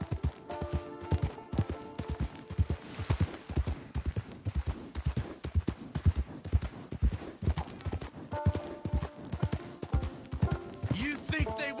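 Steady clip-clop of horse hooves trotting at an even rhythm, with occasional voices over it and a brief whinny, in the video game Red Dead Redemption.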